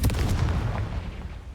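A Confringo blasting spell bursts in the Hogwarts Legacy video game, a deep booming blast that starts loud and rumbles low, then fades over a second and a half, with no speech.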